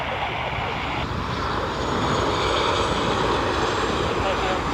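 Ryanair airliner arriving from Malaga at Dublin Airport, a steady, loud broadband jet roar holding throughout with no clear rise or fall, heard from an outdoor spotting position.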